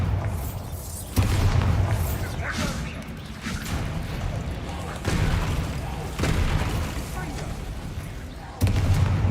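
Bombarda blasting spell explosions in Hogwarts Legacy, several heavy booming blasts each followed by a rumbling decay and debris whooshes, loud and near, with a voice talking between them.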